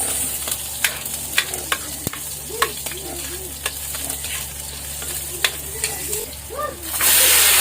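Garlic and onion sizzle steadily in hot oil while being stirred, with repeated scraping clinks of a utensil against the pan and a louder hissing surge near the end.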